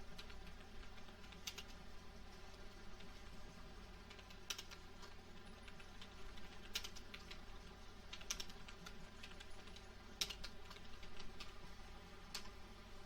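Computer keyboard keys tapped in quick, irregular bursts while a purchase voucher is entered in Tally Prime accounting software, the clicks faint, close and alone in a quiet room.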